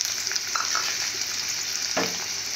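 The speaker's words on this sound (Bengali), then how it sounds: "তো আমি পেঁয়াজ কুচিগুলো ভালো করে ভেজে নেব।" Chopped onions fry in a pan with a bright, dense, continuous sizzle, close and fairly loud. A few faint stirring scrapes come through.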